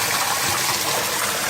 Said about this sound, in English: I hear the pump kicking on, and you can see that water going down.